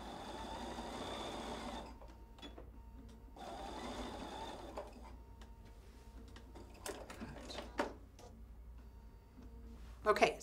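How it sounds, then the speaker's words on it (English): A sewing machine stitching down the binding on a quilted insulated tote runs in steady bursts, its motor whirring for a couple of seconds at a time, with pauses and small handling clicks between runs. "we are ready to stitch our binding down by machine"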